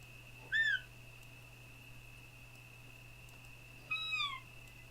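Two separate owl calls ring out at night in the hunting game The Hunter: Call of the Wild, one near the start and one near the end, each a short sliding cry over a quiet, steady ambient hum.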